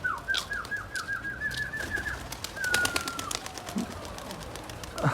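Young pigeons coo in a series of repeated, rising calls close by, with a few later drawn-out coos fading, over faint outdoor background noise and brief wing flutters.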